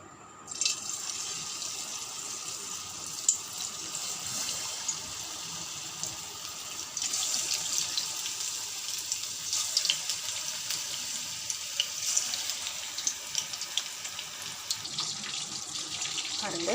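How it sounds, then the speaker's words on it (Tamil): Marinated chicken lollipops fry in hot oil, a steady, loud, broad hiss that runs throughout with crackling pops, no voices. "இப்போ ஒன்றா போட்டு ஃப்ரை பண்ணிடலாம்."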